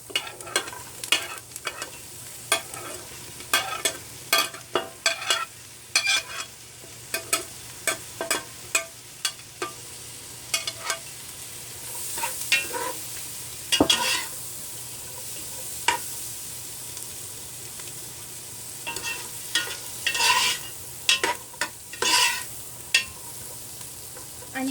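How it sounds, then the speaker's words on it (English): Chopped chives, celery, hot pepper and onion fry in butter for Trini corn soup, with a steady close sizzle broken by repeated stirring and scraping of a utensil against the pot at an irregular rhythm. "I'm gonna throw the chives I have chopped up, the celery, and the hot pepper. Oh, and the onion also. I'm gonna throw that in and let it fry up into that butter."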